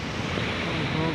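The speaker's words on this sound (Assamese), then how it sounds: "চাওক আপোনালোকে ভালদৰে কেনেকুৱা ভয়ংকৰ ঢৌ উঠিব দেখুৱাই আছোঁ" Big waves on the Arabian Sea make a brief, steady wash of surf and wind noise, loud and continuous across the short moment.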